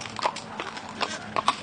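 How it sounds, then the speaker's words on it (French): Horse hooves clip-clop in an uneven walking rhythm as a horse-drawn carriage, a late-19th-century vehicle or faithful replica, moves during a driving competition; the steps sound fairly close and clear, with no talking. "Attelage en simple, en paire, en tandem, composé de chevaux, de poneys et parfois même d'ânes"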